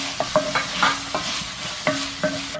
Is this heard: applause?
no